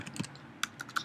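Keystrokes on a Mac computer keyboard while writing in the Notes app under OS X Mountain Lion: a few soft taps, then a quick run of sharper clicks, recorded up close with no talking.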